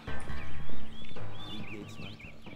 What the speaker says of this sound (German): holt mal ganz kurz das dritte Pferd